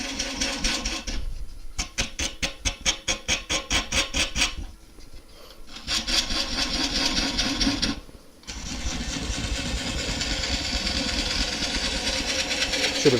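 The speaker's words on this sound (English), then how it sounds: "I'm going to swap to a smaller gouge." Gouge cutting a monkey puzzle end grain bowl on a wood lathe, a rhythmic scraping chatter in rapid bursts that stop twice briefly before a steady continuous rasp resumes.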